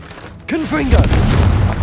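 A Confringo explosive spell in Hogwarts Legacy bursts into a loud, close blast with a crackling, rumbling tail. A voice calls out just before it.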